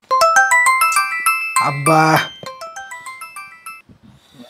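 A mobile phone ringtone rings for an incoming call, a loud, bright melodic chime of rapid repeating notes with a brief burst of noise partway through. A man lets out a short exclamation over it.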